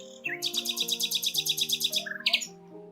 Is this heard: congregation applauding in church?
no